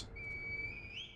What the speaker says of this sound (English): Oh, yeah, the reed whistle.